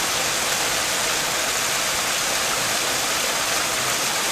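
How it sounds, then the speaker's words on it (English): A small runoff stream flowing beside a forest hiking trail at Lost River in North Woodstock, New Hampshire, giving a steady, loud, close rushing wash of water with no pauses. "Smaller runoff streams like this one were plentiful all along the way."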